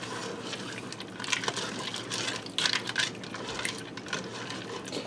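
Pasta is stirred in about 12 ounces of water inside a Ninja Foodi pot, giving close, uneven wet swishes and light splashing bursts with no talking.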